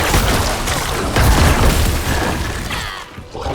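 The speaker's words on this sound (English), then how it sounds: "I'm glad the corpse explosions don't hurt you." Corpse explosions from a Necromancer in the Diablo IV beta, a loud, thick wash of booming bursts and crackling debris that runs almost without a gap, with heavier thumps near the middle and a brief dip toward the end.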